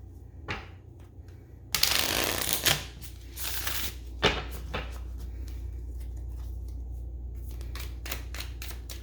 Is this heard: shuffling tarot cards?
yes